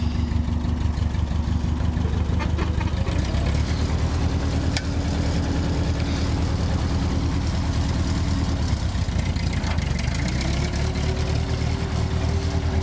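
An old Ford tractor engine runs at a steady idle after a carburetor repair, with a continuous low rumble and a rhythmic chug. The pitch rises slightly now and then, and there is no talk over it.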